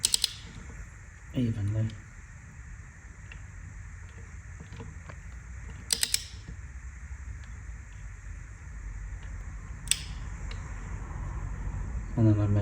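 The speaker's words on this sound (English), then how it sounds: "I'm using a star shape and tightening up the bolts just to pull the wheel onto the hub" Rear wheel bolts on a BMW R NineT motorcycle are tightened in a star pattern, with a few short bursts of tool clicking and whirring spaced through a quiet garage while someone speaks briefly.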